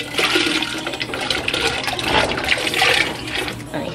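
Canned corn kernels for pozole tumble into a pot of water, a loud continuous splashing and pouring rush that swells and eases over four seconds, heard alone.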